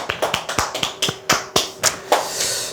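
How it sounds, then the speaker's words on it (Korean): A small audience at a sales-training seminar claps sparsely, about a dozen distinct, uneven hand claps in under three seconds, close and fairly quiet, with no talking. "박수 한번 치시죠"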